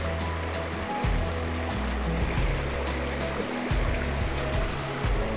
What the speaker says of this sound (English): what I'm trying to get is that little flow of the white water coming through